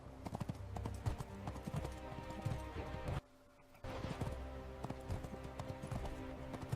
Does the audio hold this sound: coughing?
no